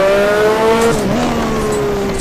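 Turbocharged Formula 1 car racing at Adelaide in a driving game, its engine note loud and close as it climbs in pitch, then dips briefly at a gear change before rising again.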